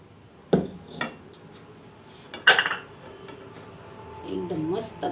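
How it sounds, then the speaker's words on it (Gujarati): A kadai holding methi-potato curry is lifted off a gas stove, giving a few sharp metallic clanks and scrapes against the burner, with quiet rustling between them. "આપણે આ કડાઈને નીચે ઉતાર લે"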